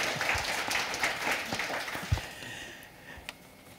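Audience applause at a seminar, a full round of clapping that thins out and fades to scattered claps toward the end.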